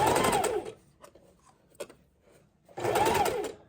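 Close, loud bursts from a sewing machine stitching trim or lace onto a junk journal cover, one run at the start and another near the end, with quiet handling clicks between.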